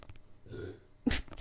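A single short burp after a bubbly drink, close and fairly loud, preceded by a quieter throaty rumble.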